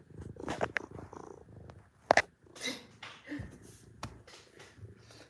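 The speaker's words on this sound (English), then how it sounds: "Listen to him purr." A cat purrs softly up close, a faint rumbling broken by sniffs, snorts and a few brief clicks.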